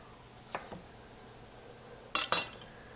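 A large sharp knife slices potatoes into 1-inch pieces on a cutting board, with two light taps early on and a louder pair of crisp knife strikes near the end, quiet and close.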